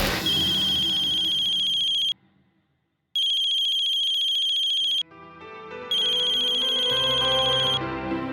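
A mobile phone ringtone plays in three loud, close bursts of a bright repeating tune, separated by short silent gaps, with no voices over it.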